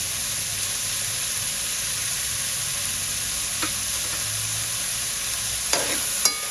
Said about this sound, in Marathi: पनीर छान परतून घालू. चवीप्रमाणे मीठ घालू आणि कांद्याची पात घालू.